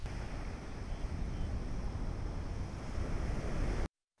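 Rough sea waves crash on the shore at Kribi with a loud, continuous roar of surf mixed with wind buffeting the microphone. The sound cuts off abruptly near the end.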